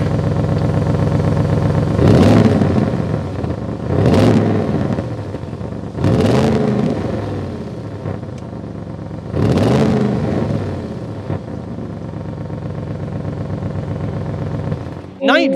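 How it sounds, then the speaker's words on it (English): A 2021 Audi RS7 engine starts and then revs sharply four times in a row, each burst swelling and falling back to a steady idle. "Let's start this thing up and hear the engine."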